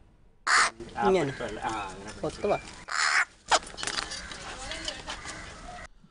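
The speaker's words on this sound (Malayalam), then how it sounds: "ഒരു വെള്ളക്കാക്കയാണ് ഇപ്പോൾ ആലപ്പുഴ മുഹമ്മ പഞ്ചായത്തിലെ കൗതുകം" A few harsh caws ring out close by from a white crow in Muhamma, Alappuzha, Kerala, separated by stretches of people talking.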